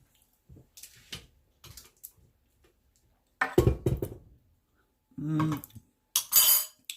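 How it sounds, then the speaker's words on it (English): A spoon and other cutlery clink and knock against dishes while desserts are made, in several short bursts spaced apart with quiet gaps, close and fairly clear, with no talking. "let me get a spoon in case I need it"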